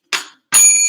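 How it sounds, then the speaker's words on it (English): Two bright rings of a small bell, the first short and the second longer with a sustained metallic ring, loud and close with no voices. "Here's the bell."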